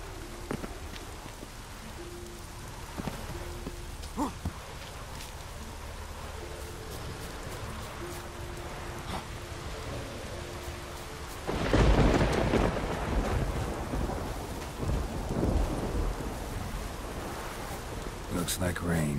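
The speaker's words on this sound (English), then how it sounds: "Looks like rain." Steady rain hisses through a stormy scene in the video game The Witcher 3, and a heavy, loud roll of thunder breaks in past the midpoint and rumbles to the end.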